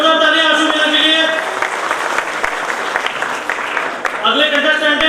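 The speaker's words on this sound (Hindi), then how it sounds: "एक बार जोरदार तालियां आशु मीना के लिए।" Loud audience applause at an Ambedkar Jayanti celebration, honoring a bronze medal winner as she is called to the stage. The clapping swells steadily through the middle, while a voice speaks over it at the start and end.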